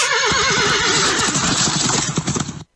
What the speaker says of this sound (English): that closing sound was from the thoroughbred horse